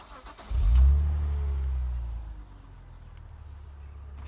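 A BMW Z4 straight-six fires up with a loud, low burst that swells briefly, then settles into a steady, softer idle rumble heard close up with no talk.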